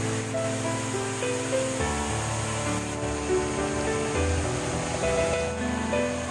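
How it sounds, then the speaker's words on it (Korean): A steady, broad rush of falling water from a twin-branch waterfall in a Jirisan mountain valley in Korea fills the scene, constant and moderately loud, with faint musical tones layered over it. "여기가 쌍갈래 폭포라요"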